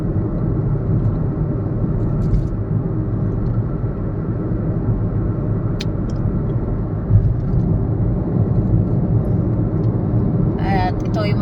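Car cruising on an expressway, heard from inside as a steady, loud low rumble of engine and road noise with a faint click or two, continuous and unchanging throughout.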